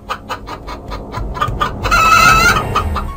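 Pet chickens kept behind a house cluck in a rapid, steady series, then a rooster crows loudly and close, with the flock still busy underneath.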